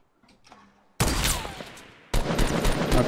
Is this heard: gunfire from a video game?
yes